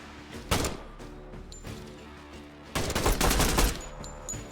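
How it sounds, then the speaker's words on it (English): Gunfire in the tactical game Door Kickers 2: a sharp burst of shots, a pause, then a longer rattling automatic volley, loud and close, with smaller pops trailing off. "I hear gunfire."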